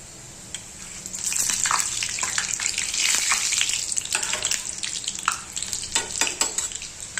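Karanji pastries deep-fry in hot oil, crackling and bubbling at close range, with a burst of sizzle swelling after the first second and sharp spattering pops continuing to the end.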